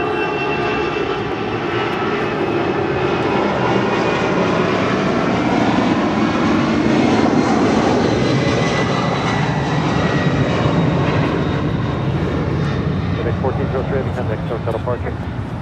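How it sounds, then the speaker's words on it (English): A DHL Boeing 767-200 freighter operated by ABX Air departs LAX with a loud, sustained jet engine roar that rises and falls gradually, while radio chatter and voices run over it. "That is DHL operated by ABX Air 1403 departing to Cincinnati, Kentucky on a 767-200 freighter"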